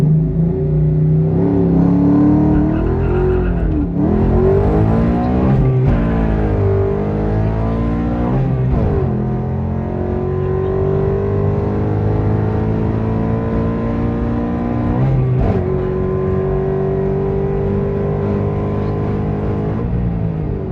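A Coyote V8-swapped SN95 Ford Mustang makes a loud wide-open-throttle pull with spinning tires, its engine note climbing steadily through repeated rising sweeps over about twenty seconds.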